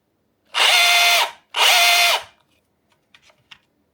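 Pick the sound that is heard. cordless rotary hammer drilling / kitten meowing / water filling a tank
cordless rotary hammer drilling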